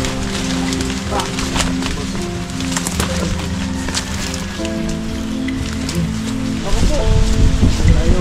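Steady, heavy rain patters on a surface in a forest with a constant hiss, people talking over it, and a louder rustling burst near the end.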